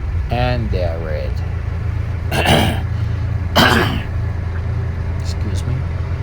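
A man clears his throat twice, close and brief, inside a Mahindra ROXOR hard-cab vehicle stopped at a red traffic light, with a steady low engine rumble running underneath.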